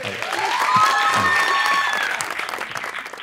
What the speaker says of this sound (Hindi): आइए बनाते हैं तालियां जी तालियां